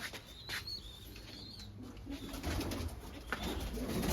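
Pigeons coo softly in low, throaty repeated calls, with faint chirps and rustling around them in a quiet outdoor setting.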